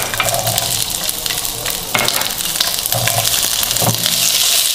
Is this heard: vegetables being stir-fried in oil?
yes